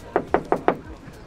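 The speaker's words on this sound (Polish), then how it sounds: "Pukamy do pierwszego." Four firm, evenly spaced knocks land on the door of a camper van at a vanlife caravanning festival, close and distinct, with no talking over them.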